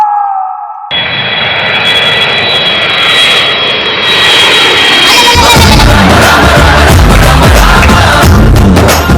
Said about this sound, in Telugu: ready, flight ఎక్కేద్దాం